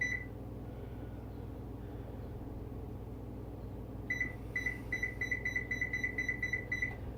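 An electronic oven beeps as it is switched on, a series of short, evenly spaced high-pitched tones after a quiet stretch of low kitchen hum.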